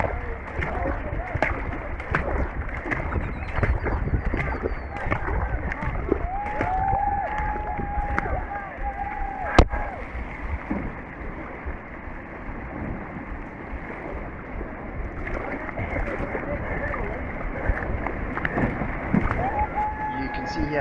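Kayak paddling on the Liebenbergsvlei river toward a weir during a race: steady water wash and splashing paddle strokes, with someone talking over it throughout and occasional other voices.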